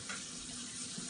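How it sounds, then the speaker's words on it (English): Water pours steadily into a pitcher, a close continuous splashing rush that lasts about a second without pause, and nobody speaks. "I'm gonna fill the pitcher now with some water"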